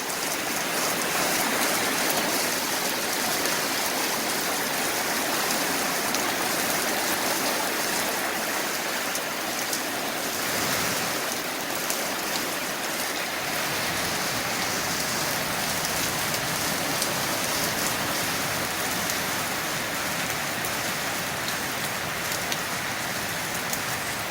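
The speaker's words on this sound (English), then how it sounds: "Look at that rain." Heavy rain pours down steadily and loudly for the whole stretch, a dense, continuous hiss of water drumming on surfaces, with no voices.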